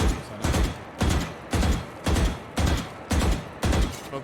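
Rapid gunfire bursts from the video game Valorant during strafe-reset practice, eight evenly spaced loud volleys about half a second apart, each a short crackling burst with no talking.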